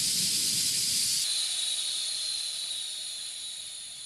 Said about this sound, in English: Get our valve core removing tool. And just unscrew the valve core.